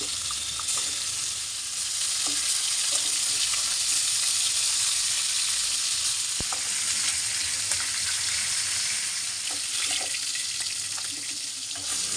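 Chopped garlic sizzles steadily in hot oil in a wok, a constant loud hiss with occasional faint clicks and one sharp tap.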